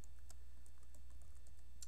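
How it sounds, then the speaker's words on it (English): Light, irregular clicks of typing on a computer keyboard, faint and close, with scattered keystrokes over a low steady hum. "let's start by typing in name"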